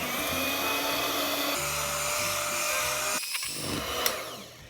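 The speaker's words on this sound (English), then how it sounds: "I recommend using an electric mixer if you have one, so it gets nice and airy, the mixture" An electric hand mixer whirs steadily through cherry cola cake batter, a loud, continuous motor drone that shifts pitch as the speed changes, with a brief dip and clatter near the end.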